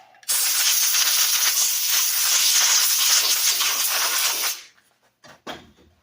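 Compressed air hisses loudly and steadily for about four seconds as it blows off a machined hydraulic pump snout, then cuts off, followed by a couple of brief, fainter puffs.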